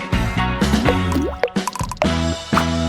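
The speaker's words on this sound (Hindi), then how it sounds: "फिर थोड़ा पानी मिलाऊंगा" Water is poured into a gelatin mixture with dye for a sweet watermelon-style jelly, giving a run of close, wet plops and drips in short bursts.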